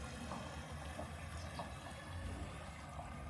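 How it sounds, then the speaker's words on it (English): Water filling a camper van's onboard tank: a steady broadband gush and rush, continuous and fairly loud throughout with faint low rumble underneath, no voices. "Just filling up the water."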